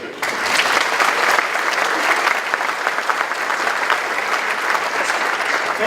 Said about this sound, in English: Ladies and gentlemen, please welcome IAPA President and CEO, Paul Nolens.